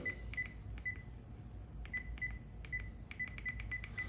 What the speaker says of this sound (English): So to make a call on these phones, you dial 9 plus your number.